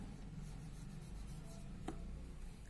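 A pen writing an answer by hand on paper, a soft continuous scratching rub, quiet and close, with one small tap partway through.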